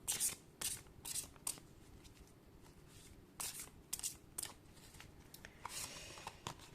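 Tarot cards being shuffled for a reading, a run of crisp riffling bursts and soft shuffling clicks separated by short pauses, close and quiet with no voice.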